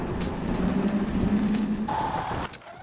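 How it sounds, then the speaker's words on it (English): A Ninebot GoKart's electric motor whines as it climbs a hill, a steady high-pitched hum under wind noise, then a brief higher tone before the sound drops off. "But you can hear the motor. It sounds like it's spinning out of control"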